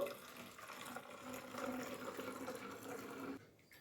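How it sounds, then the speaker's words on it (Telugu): Cooled water is poured into a spray bottle for a homemade room spray, a faint steady trickling stream that stops shortly before the end. "దాంట్లోకి ఈ వాటర్ని పోసేసుకుందాము"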